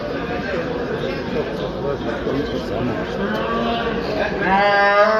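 Cattle moo at a livestock market in Düzce, one drawn-out low call rising near the end over a busy murmur of people talking nearby.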